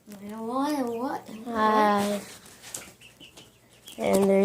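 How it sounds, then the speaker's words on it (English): Chickens in a backyard coop with a rooster among them, clucking close by in short bursts, interleaved with a person talking over and between the calls. "there's the rooster that you can see in that corner"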